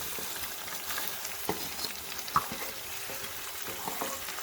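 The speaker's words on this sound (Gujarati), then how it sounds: "ઝીણી સમારેલી આપણે ડુંગળી લીધી છે એને આપણે એની અંદર એડ કરીશું." Finely chopped onion fries with cumin for paneer butter masala, a soft constant sizzle with a few light stirring knocks and scrapes, fairly quiet and close, no voices.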